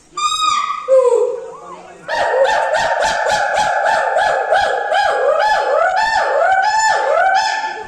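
Hoolock gibbon at a zoo enclosure calling in a loud, close series of rising whooping hoots, starting with a few separate calls and then settling into a rapid, steady rhythmic run of repeated notes.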